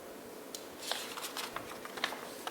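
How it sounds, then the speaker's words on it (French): Scissors snip through paper while cutting out a circle, a series of quiet, crisp clicks and short cuts in an irregular rhythm, close but soft. "Ensuite, nous allons découper le cercle."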